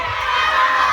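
A crowd cheers and shouts loudly and steadily on cue at a Miss Chubby pageant in Hong Kong, with children's voices mixed into the roar and no break in the noise.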